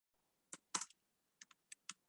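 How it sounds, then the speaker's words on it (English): Online brand name being typed on a computer keyboard: quiet, sparse keystrokes in two short bursts, a pair of clicks then four spaced taps, close and alone with no speech. "I'm typing"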